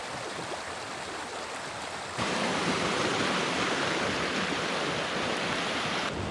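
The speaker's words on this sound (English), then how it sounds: "Walking alongside the Devonport Leat here, sound of running water" Steady broadband rush of running water from the Devonport Leat, an 18th-century channel on Dartmoor carrying drinking water toward Plymouth, heard close and continuous, swelling louder after the first couple of seconds with no talking.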